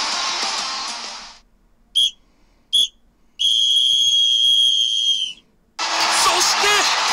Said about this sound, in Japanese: そして試合終了のホイッスルが鳴り響きます。